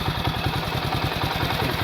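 A Honda motorcycle engine idles close by, a steady loud rumble with even low pulsing firing beats and some mechanical clatter throughout, with no talk.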